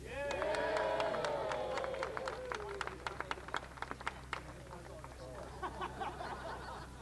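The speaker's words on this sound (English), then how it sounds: "Those of you that are not cutting the ribbon are going to clap and cheer." At a rail trail dedication ribbon cutting in November, an outdoor crowd bursts into loud clapping and cheering that thins to scattered claps, with voices mixed in.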